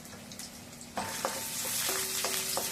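Asafoetida and urad dal sizzle and crackle steadily in hot oil, with a few sharp clinks of a utensil against the pan.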